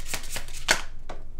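Tarot cards being shuffled by hand give several crisp riffling bursts, four quick flutters in a row, close and clear with no talk.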